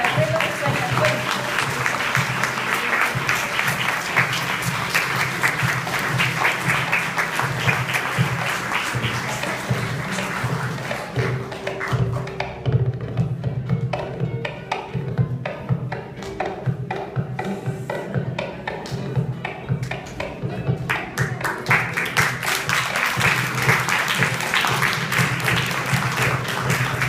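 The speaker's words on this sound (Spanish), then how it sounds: "Un gran aplauso para este grupo de abuelos de Sueños" An audience in a storytelling performance hall applauds at length, a dense wash of clapping that thins in the middle and then swells again, with a voice speaking over part of it.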